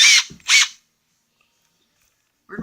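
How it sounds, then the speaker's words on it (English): A handheld power drill gives two short bursts close by in a workshop beside a lathe, then stops, leaving silence before another brief start at the end. "I have a drill."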